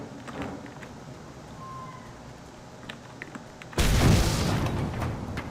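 In the video game Mad Max, a loud explosion suddenly booms after a quieter stretch of faint game ambience, its deep blast rumbling on and slowly fading.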